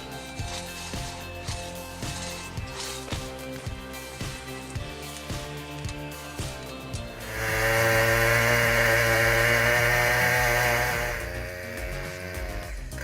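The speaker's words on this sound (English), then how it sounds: "This chainsaw is a beast." A Stihl MS-881 chainsaw with a 67-inch bar cuts through a huge log. A rhythmic mechanical chugging leads into a loud, sustained engine roar lasting several seconds before it eases off.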